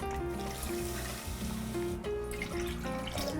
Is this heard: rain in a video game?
no